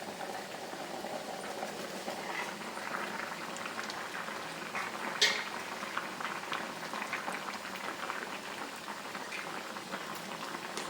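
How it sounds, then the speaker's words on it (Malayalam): Jackfruit erissery curry boiling in a pot, a steady close bubbling wash that goes on without a break, with one brief sharper clink near the middle and no talk. "ഇത് നന്നായി തിളച്ചു."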